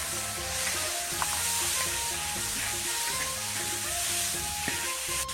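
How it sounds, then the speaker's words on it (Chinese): Soaked Sichuan peppercorns and chilies sizzling in hot oil in a wok for stir-fried lamb hooves, a loud continuous crackling sizzle with light stirring, close and with no speech. "泡好的花椒、辣椒放上"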